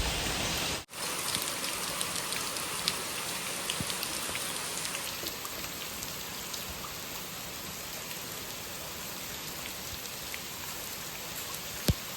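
Rain falls steadily in a soft, even hiss, with occasional drips standing out, no voices present.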